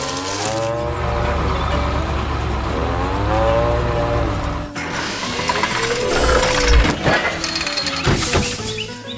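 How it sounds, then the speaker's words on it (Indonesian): A red tractor in an animated farm scene works through thick green grass and loosens the soil, its engine rising and falling in steady revving swells with mechanical rattling and clicking over nine seconds. "Traktor merah sedang bekerja keras."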